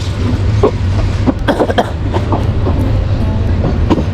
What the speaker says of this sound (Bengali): দারুণ আমাদের লোকাল ট্রেনটি কত আস্তে আস্তে চলে যাচ্ছে দেখুন